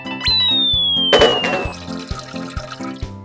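Cartoon toilet flush in a Pocoyo episode, a short watery whoosh that swells and drains away over bright background music, with no talking during the flush.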